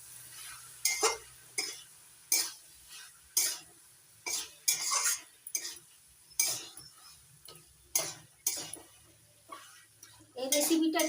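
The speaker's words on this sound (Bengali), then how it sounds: "ভালো করে নাড়াচাড়া করে মশলাটা মিশিয়ে নেব।" A spoon scrapes and clacks through a spice mixture for pui metuli in a pan with about a dozen separate stirring strokes in an uneven rhythm, close and clear, followed by a short sizzle at the end.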